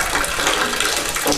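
Hot water runs steadily from a single-handle tub and shower faucet, a loud continuous hiss and splash close by with no break and no talk.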